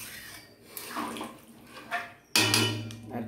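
Water poured into a cooking pot while making khichuri, a close splashing gush with a few short pours before a louder, fuller stream starts near the end.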